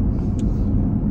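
Road traffic noise heard from inside a car on a busy rural road, a steady loud low rumble with no speech.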